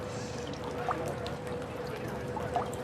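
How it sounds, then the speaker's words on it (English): Water cascades steadily over stacked terracotta pots in a recirculating garden water feature at the Chelsea Flower Show, a soft continuous trickle and pour with faint splashes throughout. "that water cascades down over these terracotta pots"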